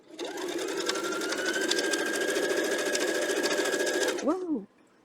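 A sewing machine runs steadily for about four seconds stitching a quilt line, a fast continuous whir that stops abruptly, followed by a brief voice.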